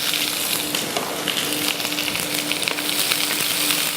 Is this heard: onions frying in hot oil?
yes